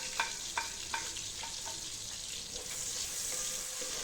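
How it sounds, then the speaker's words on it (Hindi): Chopped small onion frying in hot oil in a pan for a chicken curry: a steady, close sizzle throughout, with a few light stirring taps early on. "ये मैं शामिल करूँगी ऑयल में।"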